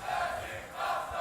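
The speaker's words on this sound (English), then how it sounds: "the Sergey Master cheers coming from the crowd" A live crowd at the TWT fighting game world final roars and cheers in a steady swell that dips slightly midway and surges again over about a second.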